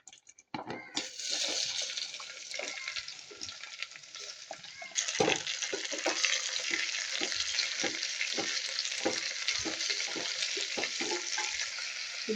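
Sliced onion, tomato and green chili sizzle in a hot pan after being dropped into the oil, a steady frying hiss broken by repeated scraping strokes of a spoon as the mixture is stirred close up.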